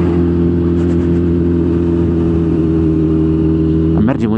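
Motorcycle engine running at a steady low idle-like hum while riding slowly along the Transfăgărășan mountain road, loud and close throughout, with a brief rise in revs near the end.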